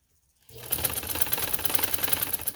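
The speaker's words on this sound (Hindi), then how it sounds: "अब इसके ऊपर हम सिलाई लगा देंगे।" A sewing machine stitches a decorative neck design piece for a women's garment, starting after half a second of silence and then running in a steady, fast, close mechanical rattle with no talking.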